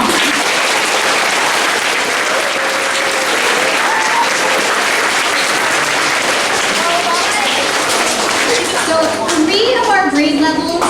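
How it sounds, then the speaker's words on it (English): Sustained audience applause fills a school awards assembly hall, dense clapping steady and loud throughout, with a few children's voices and cheers rising near the end. "Give him a round of applause"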